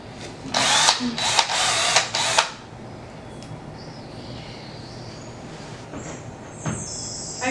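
A power drill drives wood screws into a DIY wooden triangle stage, letting out four short close whirring bursts in quick succession. Then comes a quiet stretch with only faint clicks and a brief tick near the end.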